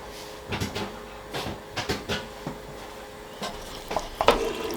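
Spoon scraping and knocking in a pot as red wine stock is stirred into a pasta ragu for penne al forno; soft repeated scrapes and clinks, close, with a faint sizzle underneath.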